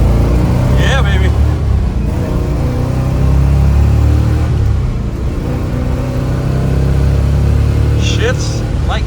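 A 1966 Chevrolet Nova Super Sport with a factory four-speed drones steadily at highway speed, its engine and road noise loud and continuous inside the car, with brief voices in the cabin.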